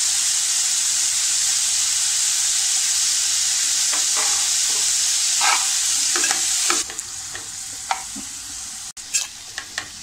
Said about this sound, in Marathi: आता ही मीठ टाकून मी व्यवस्थित ढवळून घेतली आहे